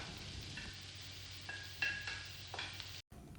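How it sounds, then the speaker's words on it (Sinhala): Prepared vegetables tipped into sizzling margarine in a pot for a one-pot rice dish, giving a continuous frying hiss broken by scraping stirs and a brief silence near the end. "මේ අපි සූදානම් කරගත්ත ඔක්කොම එළවලු ටික දැන් මම මේ වෙලාවේදී එකතු කරගන්නවා."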